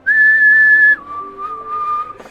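A voice imitates a ship whistle in a dockside scene: one close, steady whistled tone held for about a second, then dropping to a lower sustained pitch before cutting off.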